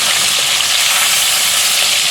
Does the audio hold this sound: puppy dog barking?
no